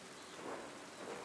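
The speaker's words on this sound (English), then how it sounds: "Hope this rain lets up for you soon." Steady rain in the medieval-set video game Pentiment, a constant soft hiss of falling water with a faint low rumble like distant thunder, heard alone at low level.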